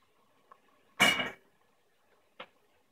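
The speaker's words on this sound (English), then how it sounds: "I'll dump my noodles in" Cooked gluten-free noodles from a pressure cooker are dumped into a pot for a pasta casserole, making one loud, wet, clattering slump at close range, with a couple of faint knocks of utensils against cookware before and after.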